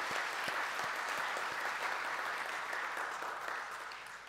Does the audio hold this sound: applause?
yes